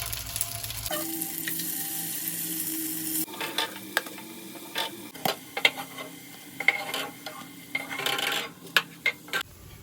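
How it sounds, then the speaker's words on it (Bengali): Papaya dhoka, lentil cakes, frying in hot oil with a steady close sizzle, broken by repeated sharp scraping and clinking strokes of a spatula turning and lifting the pieces. "বাদ বাকি ধোকাগুলো আমি এইভাবেই ভেজে তুলে নেব লাল লাল করে"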